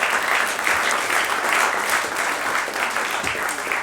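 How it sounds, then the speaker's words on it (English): Sustained applause from a live audience at a student union Question Time event for the VP Education role, a steady dense clapping wash filling the whole stretch without pause. "I think a round of applause for a great round of questions."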